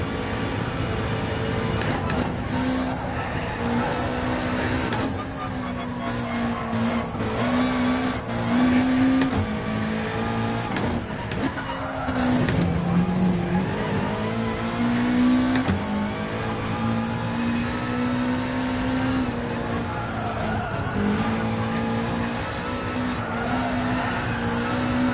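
A race car in a VR racing game, its engine a continuous high droning whine that rises and falls with throttle, along with occasional tyre squeal, sustained and loud throughout.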